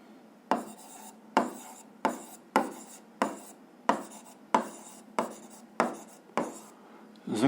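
A pen writes a physics formula on paper by hand, with about ten quick, crisp scratching strokes separated by short pauses, close and distinct in a quiet room.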